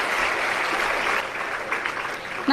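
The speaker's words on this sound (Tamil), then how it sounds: "கைத்தட்டுங்க பாப்போம் கைத்தட்டுங்க" An audience at a Tamil speech event claps together in a sustained burst of applause lasting a couple of seconds, fairly close and dense.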